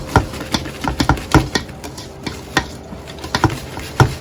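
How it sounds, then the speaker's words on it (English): Buttermilk waffle batter with melted butter and vanilla being mixed in a bowl, giving repeated soft wet slaps and clinks of the utensil in an irregular rhythm, close and moderately loud, with no talking. "Now we're gonna mix everything in."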